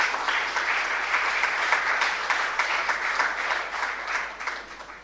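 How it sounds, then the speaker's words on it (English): Sustained loud applause from an audience at a formal session honoring visiting justices, a thick continuous roar of many hands clapping evenly throughout, tapering slightly toward the end. "let's clap very, very loudly for the honorable justices that are here with us"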